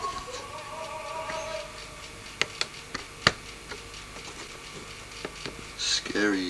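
A camera lens mechanism with autofocus switched off, picked up by the camera's own microphone: faint whirring with scattered small clicks and ticks, a few sharper, louder clicks, and a brief louder burst at the end.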